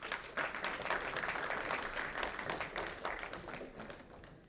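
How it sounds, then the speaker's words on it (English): A crowd at a Congolese community Independence Day celebration claps together in a soft, distant round of applause that holds steady for a few seconds. "give yourselves a round of applause"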